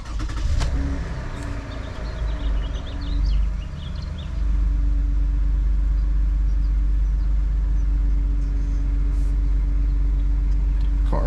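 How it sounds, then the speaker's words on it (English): A high-mileage Toyota Highlander with 207k miles cranks briefly and fires up, then settles into a steady, close, low idle rumble that continues evenly to the end. "Car fires right up."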